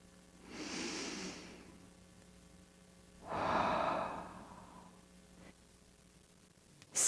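A slow, close breath during a guided meditation: a soft, airy inhale, a pause, then a longer, fuller exhale, with quiet room tone between them.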